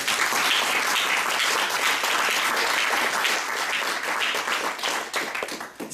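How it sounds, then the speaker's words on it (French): Audience applause at a social impact movement event, dense sustained clapping from a sizeable crowd that holds steady for several seconds before starting to thin out near the end. "On peut l'applaudir."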